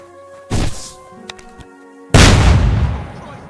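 A single gunshot in Kingdom Come: Deliverance 2 cracks loud and close with a heavy booming decay, after a softer earlier thump and a few faint clicks.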